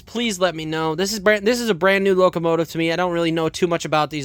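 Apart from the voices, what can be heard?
No everyday noises stand out.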